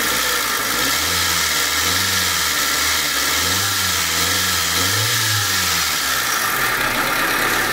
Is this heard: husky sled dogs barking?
no